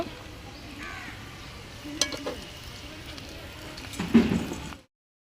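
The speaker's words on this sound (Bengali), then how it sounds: "এই যে করলাগুলো ফ্রাই প্যানে দিয়ে দিছে ভাজা ভাজা হওয়ার জন্য" Bitter gourd frying in a frying pan makes a faint, steady sizzle under quiet household background. It swells with a short burst of louder crackling near the end, then cuts off.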